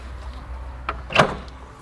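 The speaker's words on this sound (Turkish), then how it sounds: "Ah kapı açık." A door opening at a tomb site in a village, with a soft click followed by a sharper clack and creak, close and brief against a low outdoor background.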